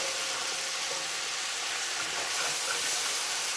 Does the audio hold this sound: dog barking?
no